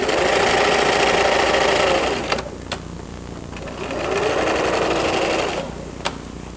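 A home sewing machine fitted with a walking foot stitches through pant fabric near the waistband in two steady, close runs of rapid mechanical whirring, separated by a brief pause with a couple of sharp clicks.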